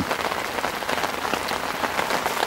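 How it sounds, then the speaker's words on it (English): Steady rain falling outdoors beside a fishing spot, a dense, even hiss of drops pattering on surfaces, continuous and fairly loud throughout with no voices. "So if or when this rain eases off"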